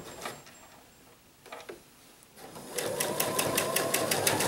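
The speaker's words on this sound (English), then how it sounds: "I'm going to stick it back under the machine. And I'm going to continue to stitch." A sewing machine stitches the binding on a quilted mug rug. Faint handling noises come first, then a steady, fast run of stitching, close and fairly loud.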